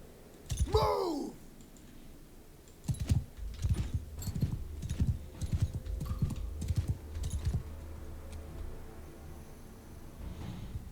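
Horses gallop in a Bannerlord battle, a steady run of thudding hoofbeats building from about three seconds in, near and moderately loud, with a brief whinny-like cry near the start.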